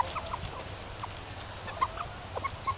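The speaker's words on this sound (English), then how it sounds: "I have two roosters here, and they're all asils, except for that Belgian giant right there" Chickens, including asil roosters and a Belgian giant pullet, give short scattered clucks and calls, fairly close but soft, over a low steady background.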